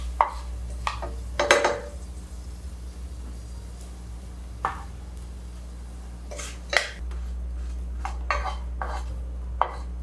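A metal spatula scoops fried ingredients out of a wok, with a few sharp scrapes and clinks spread across the clip over a steady low kitchen hum.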